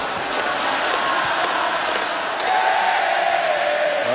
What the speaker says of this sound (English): As the crowd serenades the Cleveland Cavaliers.